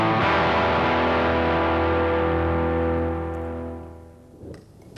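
A single sustained chord on an electric guitar played through a delay pedal on the bridge pickup rings out loud and bright, then slowly decays over several seconds with a faint echoing tail.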